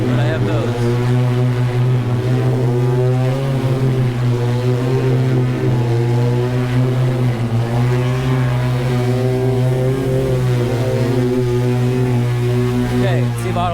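An eVTOL aircraft descends to land, its steady multi-rotor propeller drone holding loud and close throughout with layered tonal whine, no voices speaking.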